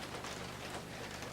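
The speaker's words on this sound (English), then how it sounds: "So it started raining, you may hear a bit of rain." Rain falls outside as a soft, steady hiss of drops, faint and continuous across the brief stretch with no voices.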